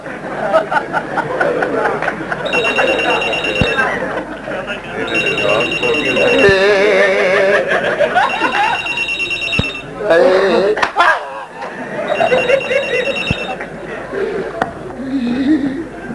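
A telephone bell rings repeatedly in bursts while several people talk and laugh over it in a Saraiki stage drama, the ringing recurring through the scene.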